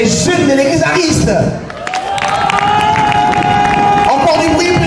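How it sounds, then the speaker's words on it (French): Young Catholic congregation in a church applauding, cheering and whooping loudly for several seconds, with shouts and a sustained tone rising over the dense clapping, briefly dipping then swelling again. "Ah, c'est comme ça que vous vous applaudissez vous-même, les jeunes catholiques"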